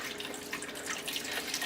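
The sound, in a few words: small amount of water added to pot with potatoes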